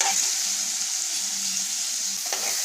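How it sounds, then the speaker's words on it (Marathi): Potatoes sauté in a pan with a steady close sizzle and frying hiss, broken by a faint stir or scrape near the end, with no talking. "हे थोडे चांगले जरा परतून घ्यायचे."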